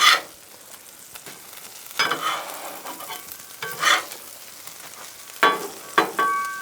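Food fries in plenty of butter on a griddle, a soft steady sizzle broken by several louder bursts of scraping and crackle as it is flipped and moved.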